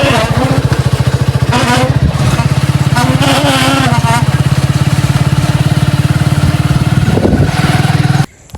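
A motorcycle engine runs steadily and loud up close on a rough road, its low throb constant under a talking voice before cutting off abruptly near the end.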